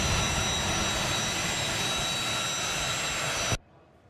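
A jet aircraft from an air ambulance fleet in Hawaii roars with a loud, steady, broadband engine rush and faint whine, cutting off abruptly near the end.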